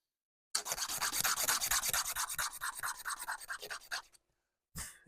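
Deer antler bone being ground and rasped into a button shape, a close rhythmic scraping of repeated strokes that slows and fades before a brief final scrape.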